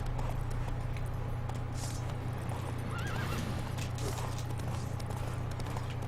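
A horse neighs in The Witcher 3: Wild Hunt while hooves clip-clop steadily, set over a constant low hum and busy background noise.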